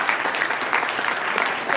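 Audience applause at a community breakfast event for a state representative, a dense, lively burst of clapping from a room full of people, close and steady throughout.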